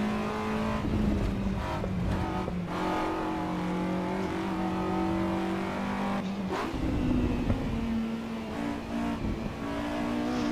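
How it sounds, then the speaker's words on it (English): A Honda VTEC engine screams at high revs in the Assetto Corsa EVO racing game, the pitch climbing steadily through the gears with brief dips at each shift, loud and continuous with no talking. "I don't think there's anything quite as cool as a screaming VTEC."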